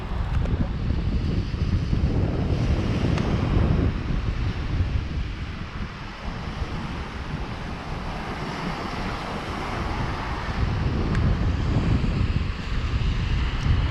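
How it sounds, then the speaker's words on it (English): Strong wind buffets the microphone on a beach at Atwick near Hornsea, with a constant low roar of surf underneath that eases briefly midway and then builds again. No one speaks. "wind's starting to pick up a bit as well."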